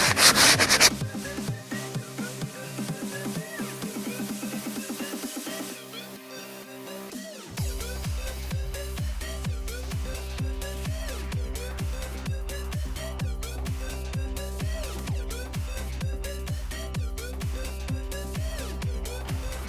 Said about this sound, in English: So next up, 120 grit sandpaper. Do the same thing. Sand down the entire area that you're going to put the patch.